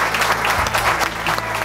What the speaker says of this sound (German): Ganz großen Applaus.